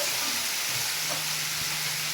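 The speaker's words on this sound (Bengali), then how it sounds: "এবার মূলোটা দিয়ে আমি বেশ ভালো করে একটু ভেজে নেব" Boiled radish fries with tomato and salt in a pan, a dense continuous sizzle with soft stirring scrapes, close and steady throughout.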